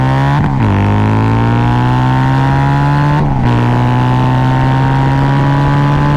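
A Harley-Davidson V-Rod Muscle cruiser pulls hard from a 40 mph roll, its loud engine note climbing continuously with two brief dips at gear shifts, heard close and with no talking.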